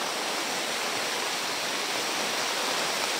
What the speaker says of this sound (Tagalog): Ang maulan.